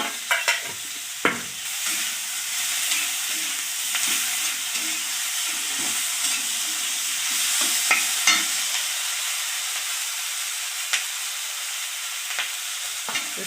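Ginger garlic paste frying in a pan for a dried fish curry, a bright close sizzle broken by spoon scrapes and stirring knocks that thin out toward the end, no voices.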